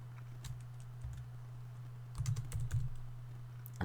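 Computer keyboard keys clatter in short irregular bursts as values are typed in, with a denser cluster of quick strokes midway, heard alone over a steady low electrical hum.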